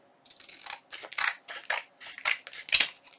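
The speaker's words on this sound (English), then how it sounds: "I'm going to trim my pieces off." Scissors trim paper pieces for a window belly band, giving a quiet, steady series of about seven crisp snips close up, with no talk.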